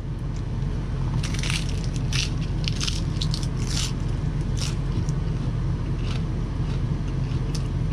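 Crunchy bites and chewing of a romaine lettuce wrap filled with rice and ssamjang, close and steady, with crisp leafy crackles scattered over a low constant background hum.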